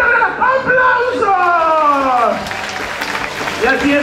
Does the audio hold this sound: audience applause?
yes